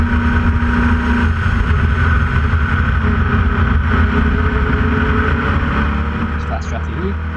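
A Formula Vee race car's engine drones steadily at full throttle from an onboard position, loud and constant throughout, with someone talking over it.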